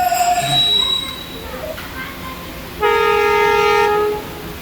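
A train at Lahore railway station, with squealing wheels and a loud sustained horn-like tone near the end over station rumble, as a voice speaks briefly in the background.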